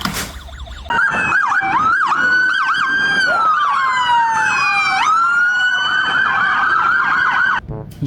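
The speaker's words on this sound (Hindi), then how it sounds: "ये है एक police car with light and siren." Toy police car with lights and siren, an electronic wailing and yelping siren that starts after a short click and runs loud and steady for several seconds before cutting off, close with no talking.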